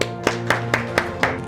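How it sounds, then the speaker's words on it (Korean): A church congregation claps hands in a steady rhythm, about six sharp claps a quarter-second apart, over a sustained low musical tone. "박수."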